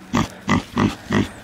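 Four short, evenly spaced grunts from a pig on a farm, close and fairly clear with little else behind them.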